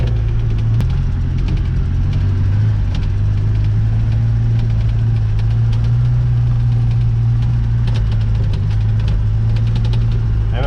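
Land Rover engine driving into a farm field, a loud, steady low rumble that holds throughout with faint knocks over it.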